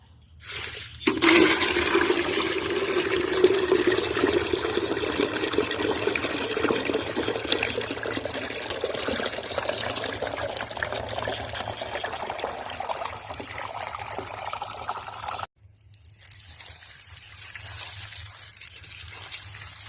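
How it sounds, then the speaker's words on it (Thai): Water gushes steadily into a container for a vegetable garden of organic cucumbers and tomatoes, a continuous loud rushing pour that stops abruptly, leaving faint background sound. "ใส่น้ำ"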